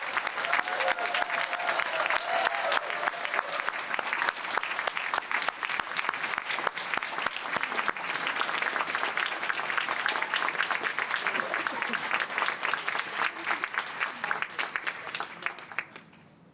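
Sustained applause for advanced degree recipients at a university humanities, arts and social sciences graduation ceremony, a large audience clapping steadily and loudly before fading out at the end.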